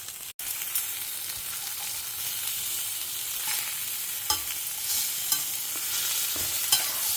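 Bottle gourd fries steadily in a hot pan and is stirred, giving a continuous close sizzle broken by a few soft scrapes and taps of the spoon.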